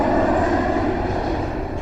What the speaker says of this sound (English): Daddy Pig lands the airplane on the mountain.